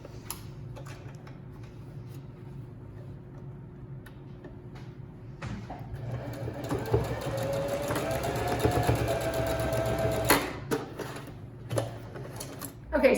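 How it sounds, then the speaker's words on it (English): A sewing machine stitches across a whale stuffie in fast, even bursts of mechanical ticking and whirring, quiet at first and then running steadily louder with short pauses. "I'm just sewing right across"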